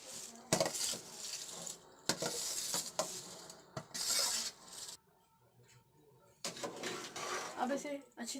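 Rice being stirred into a pot of boiling salted water for pulao, with repeated scraping and clinking of a spoon against the pot in short bursts and a brief quiet pause.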